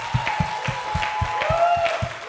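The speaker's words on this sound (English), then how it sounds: "Can we give a round of applause to Bishop Kimani?" A church congregation applauds, with rhythmic clapping thumping at a steady beat over sustained keyboard-like tones in a large room.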